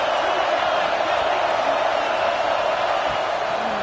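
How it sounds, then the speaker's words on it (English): Stadium crowd roar in a college football video game, a steady loud wash of massed voices that holds without a break throughout. "This crowd trying to make life miserable for this offense."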